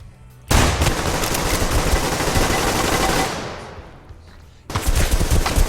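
Rapid automatic gunfire in the Survarim shooter game, a dense loud burst lasting about three seconds that trails off, then a fresh volley of shots after a short lull.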